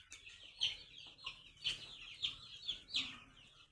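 Chickens cluck in short, repeated calls against a faint background hum on a goat and poultry farm, several bursts spaced about half a second apart.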